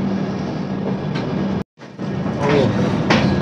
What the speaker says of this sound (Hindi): तो ट्रेन चल पड़ी है